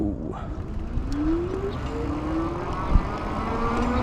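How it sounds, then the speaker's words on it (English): A Ride1UP Portola e-bike pulls away under throttle, a steady motor whine rising gradually in pitch as it speeds up, with low road and wind rumble underneath and a brief thump near the end. "this is our throttle test for the Ride1UP Portola"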